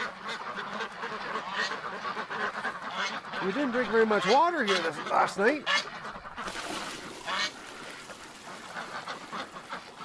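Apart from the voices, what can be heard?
ducks quacking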